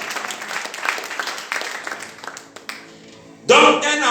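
A church congregation claps and cheers in acclamation, a broad wash of applause building through the clip and swelling louder near the end.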